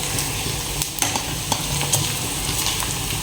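A ladle stirs tomato gojju in a sizzling pan, giving a steady frying hiss with faint scraping strokes throughout the short stretch, with no talk.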